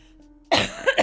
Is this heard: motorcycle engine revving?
no